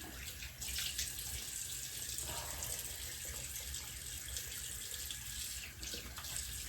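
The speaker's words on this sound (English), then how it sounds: "I'm gonna put cold water on my face." Cold tap water runs steadily into a bathroom sink for washing the face, a continuous close splashing hiss with no break and no talking.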